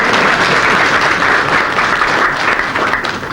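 Audience applause at a ceremony honouring Uganda's Cranes football team and their top tournament scorer, a dense, steady wash of many hands clapping close and loud throughout, with no talk over it.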